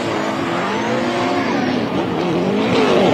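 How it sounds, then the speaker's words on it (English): An LS-powered Nissan S14 drift car at Winton Motor Raceway screams under hard throttle as its V8 revs rise and fall and its tires squeal through a skid, loud, close and sustained. "this car is going to sing. If you want to have a listen, now turn up the volume."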